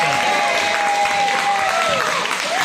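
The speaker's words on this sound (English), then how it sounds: "let's give another D2 applause" Loud, sustained applause from a crowd fills the space, steady clapping with some cheering mixed in.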